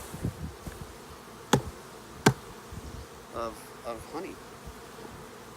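Honey bees buzz steadily around a hive with a full honey frame, a faint, close drone under a few sharp clicks and a brief spoken phrase.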